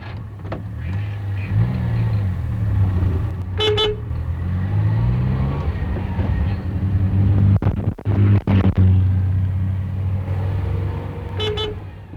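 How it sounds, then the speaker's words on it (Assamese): A car gives short honks, a couple of brief toots spaced several seconds apart, over a steady low engine rumble as it pulls away, with a few sharp clunks midway and no voices. "পটপটকৈ হৰ্ণ দি গাড়ী যাবলৈ আৰম্ভ কৰিলে।"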